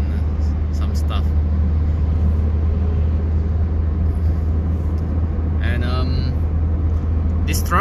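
Big trucks carrying construction loads rumble along a road in Dubai, a constant low engine drone heard from behind the wheel while someone talks over it throughout.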